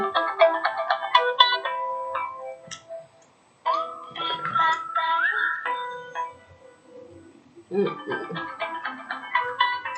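A phone ringtone plays a melodic, beeping electronic tune that repeats in phrases with short gaps, moderately loud and heard alone.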